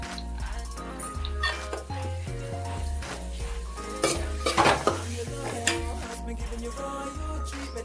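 Long-sliced onions with a little salt are stirred in a pan for pepper chicken, with a metal spoon clanking and scraping steadily against the pan over a soft sizzle, close and busy throughout.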